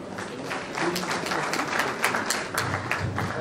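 Brief, moderate applause from an audience for a guest lecturer at a faculty open lecture, a steady patter of many hands clapping with no break.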